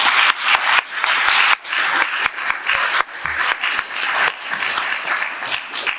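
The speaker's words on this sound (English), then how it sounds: "so can you all just give them a big round of applause?" Audience applause at a design system conference day, a sustained wash of clapping from a large crowd lasting several seconds, loud and close with no speech over it.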